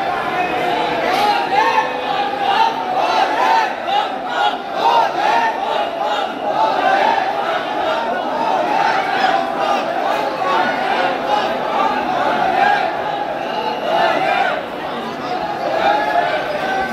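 A dense, noisy crowd presses at the gate of Mahakaleshwar temple, with many voices chattering and shouting at once in a steady, loud roar that carries through the whole stretch.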